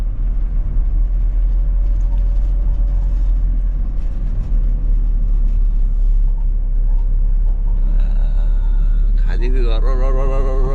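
A car climbs the narrow, winding Agumbe ghat road in Karnataka, its engine and road rumble droning steadily and loudly throughout, with a brief rising whine near the end.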